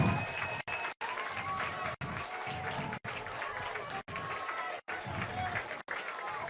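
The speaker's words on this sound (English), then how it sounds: "Let's get on our feet and cheer these boys on." Football crowd at a 2021 Stigler high school season opener against Sallisaw, applauding and cheering in a continuous dense wash of clapping heard from within the stands.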